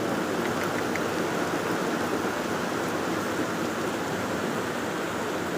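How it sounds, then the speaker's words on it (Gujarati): Heavy monsoon-style downpour, a dense steady roar of rain drumming on surfaces, loud and continuous throughout with no pauses and no voices. "ખતરનાક વરસાદ ધોધમાર"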